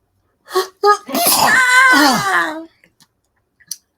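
A single sneeze from a woman near the microphone, followed by brief voiced sounds and quiet pauses.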